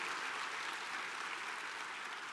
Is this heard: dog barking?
no